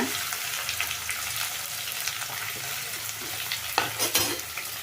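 Chopped onion, garlic and green chillies frying in oil, giving a continuous bright sizzle with occasional stirring scrapes, close up and no one speaking.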